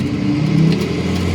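RV motorhome creeping forward off its wheel levelers on a travel day, a steady low engine rumble and drivetrain whir holding level throughout with no talking.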